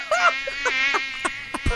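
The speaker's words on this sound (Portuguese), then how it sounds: "Ah, esse pernilongo, velho. Esse pernilongo." A mosquito buzzes near a radio studio microphone, a thin, loud whine that rises and falls in several close passes with short gaps, alone without talk.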